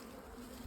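Honey bees buzz steadily in a hive opened for a summertime inspection of a split, the colony clustered under an inner cover blanket; the hum is close, continuous and dense with no talk.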